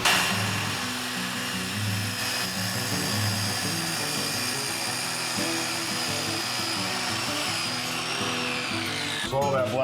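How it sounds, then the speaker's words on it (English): A budget track saw bought from Amazon makes its first cut, trimming its own rubber splinter flange: a steady, loud motor whine with a high tonal edge runs for about nine seconds, then shifts abruptly near the end. "cutting the rubber flange off for the first cut there"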